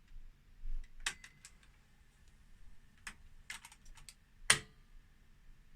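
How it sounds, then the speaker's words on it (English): A Pye 20VR22 video recorder laces its tape after play is pressed, giving a quiet run of small mechanical clicks and ticks over a soft motor hum, ending in one sharper clunk. "there it goes, tape's laced and it's playing"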